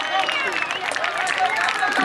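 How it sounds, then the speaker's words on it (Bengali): Steady clapping and crowd noise at a local cricket match, greeting a batsman reaching his half century; continuous, moderately loud, with scattered voices mixed in. "করে হাততালি বুমরার জন্য।"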